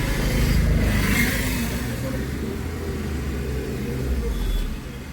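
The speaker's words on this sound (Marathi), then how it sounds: "गाडी इथे मागून" A vehicle comes up from behind on a road near Ratnagiri, a low engine rumble swelling and holding steady at moderate loudness throughout.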